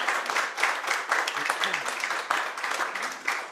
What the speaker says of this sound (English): I think that deserves a wee round of applause.